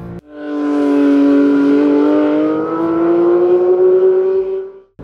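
A 2023 Porsche 911 GT3 RS, 525 hp and revving to 9,000 rpm, screams past on the Silverstone circuit. Its loud, sustained high-revving engine note climbs steadily with no one speaking.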